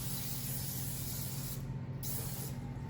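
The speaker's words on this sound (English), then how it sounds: "Just spray down your pan." Butter-flavored cooking spray hisses steadily from an aerosol can onto a baking pan, a close, loud continuous spray with a couple of brief pauses.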